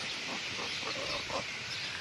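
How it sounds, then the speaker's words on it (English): An old rooster with no tail feathers, recently mauled by a dog, gives a few soft, faint clucks over steady background hiss. "That's my poor old rooster."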